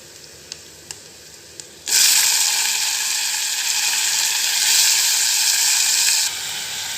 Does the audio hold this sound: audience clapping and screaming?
no